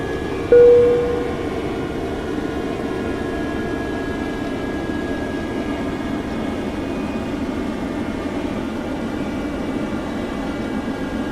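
Airbus airliner climbing in FSX flight simulator, a steady loud jet engine roar with a sustained whine, a brief tone near the start, continuous throughout.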